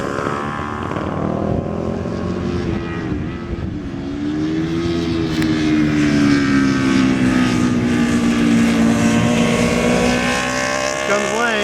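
A vintage racing motorcycle overtakes on the Mid Ohio track, its loud engine droning steadily close by, with the pitch dipping and then climbing again as it passes, and no break in the sound.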